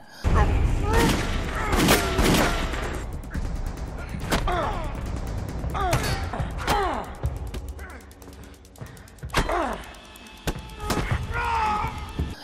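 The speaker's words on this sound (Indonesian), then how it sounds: "Meskipun Mason dan Joel harus terluka cukup parah setelah mendapat tembakan." Repeated sharp gunshots and booms ring out in bursts in a film scene, mixed with shouting voices and other chaotic action sounds.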